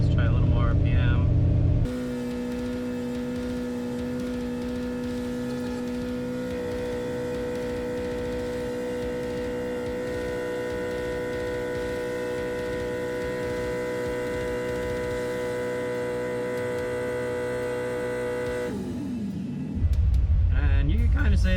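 A Ford F100 engine with Holley EFI held at raised RPM on a dyno, giving a loud sustained drone with steady tonal hum that rises in pitch partway through before dropping off near the end.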